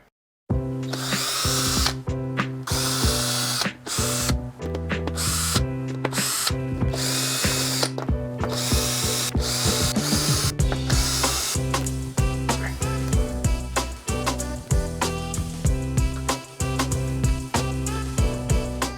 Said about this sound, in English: let's go ahead and get all of these enclosure bolts off